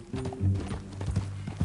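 Horse hooves clip-clopping in Red Dead Redemption 2, a run of close, irregular hoof beats under low game music and ambience, with a brief bit of voice.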